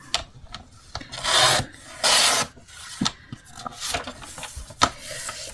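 Paper is cut for a scrapbooking card with a few close, scraping slides of a trimmer blade, each a short rasping burst, separated by small taps and handling noises, with no voices.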